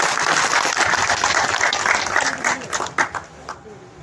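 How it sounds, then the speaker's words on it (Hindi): An audience at a BJP street-corner election rally claps for Om Suiwal, a dense burst of applause that fades toward the end. "तो एक बार ओम जी सुईवाल के लिए जरा जोरदार ताली बजा दें।"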